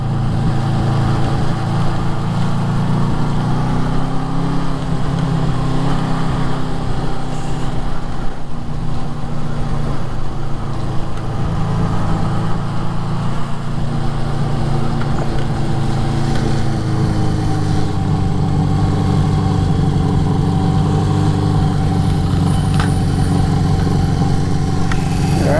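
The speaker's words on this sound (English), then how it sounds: "Turn this idle down a little bit more. That we're warmed up." A warmed-up 1973 Honda CB350 Four motorcycle engine idles steadily and loudly up close, a constant low mechanical drone with a slight pitch shift as the idle is turned down.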